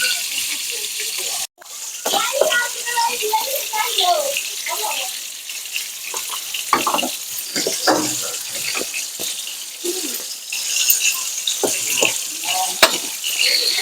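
Onions and vegetables frying in a pan for a rui fish and cabbage curry, a bubbly sizzling hiss close by with a brief dropout early on and scattered crackles and utensil clicks.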